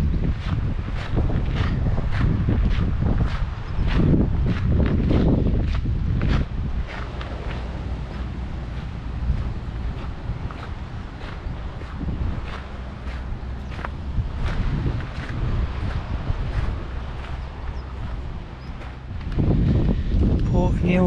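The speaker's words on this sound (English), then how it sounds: "It's a bit windy today" Gusty wind buffeting a microphone outdoors on a windy coastal day, with loud rumbling bursts and crackling thumps that come and go, strongest at the start and end.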